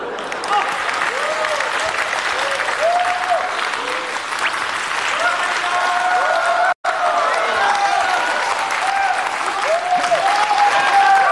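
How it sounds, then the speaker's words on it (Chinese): A theatre audience at a Deyun She crosstalk (xiangsheng) comedy show claps loudly and continuously, a dense sustained wave of applause that cuts out for an instant and then carries on. "好久没有听到掌声。"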